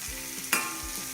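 Ingredients for Nagercoil-style kadalai theeyal sauté in a pan, a soft close sizzle with one sharp stirring scrape in the middle, brief and moderately quiet.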